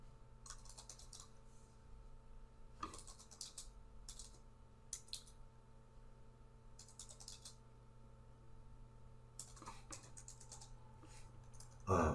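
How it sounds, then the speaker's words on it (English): Quick bursts of typing on a computer keyboard during router configuration, clustered clicks separated by pauses over a faint steady hum, fairly close and quiet, ending with a brief louder knock. "I've got some fat finger typing today."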